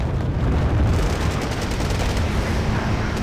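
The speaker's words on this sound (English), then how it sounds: "Dropping bombs" Bombs dropping and exploding across a battlefield in the strategy game Wargame Red Dragon, a loud, continuous rumbling barrage of blasts with no clear gaps between them.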